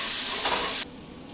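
Pinot Noir hits a hot pan and hisses loudly in a bright, steady rush while a spoon scrapes the browned bits off the bottom; the sizzle drops sharply to a softer simmer near the end.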